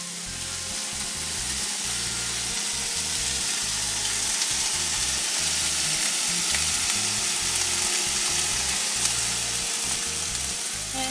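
Cuban sandwich sliders frying in oil in a pan, a loud continuous sizzle and crackle close up with no talking.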